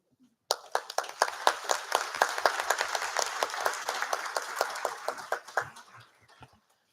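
The audience at a school board meeting breaks into a round of crisp hand clapping that starts suddenly, holds steady for several seconds, then thins out and fades.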